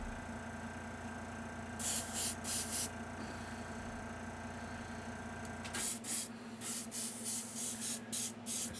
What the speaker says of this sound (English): So I just airbrushed this stuff over really quick.